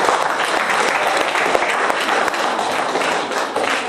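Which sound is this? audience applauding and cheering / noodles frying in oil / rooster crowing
audience applauding and cheering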